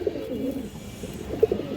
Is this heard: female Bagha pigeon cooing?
yes